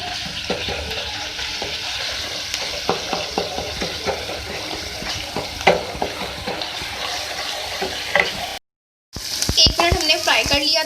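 Ginger garlic paste sizzles and spatters in hot oil in a karahi, with steady frying hiss and frequent stirring scrapes throughout, briefly cutting out near the end before resuming.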